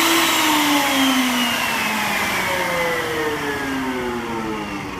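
Wood router running at high speed on a router table, a loud, steady motorized whine with faintly shifting pitch that holds throughout without any talk.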